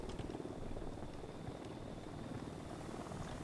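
A helicopter's rotor in the video game Ghost Recon Wildlands thrums continuously with a low, steady chop, fairly loud and constant, with no voices over it.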